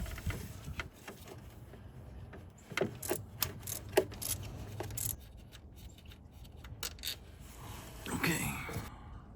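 Metal clicks and ratcheting taps come from a wrench loosening a car thermostat housing bolt, irregular and close, with soft whispered talk between them.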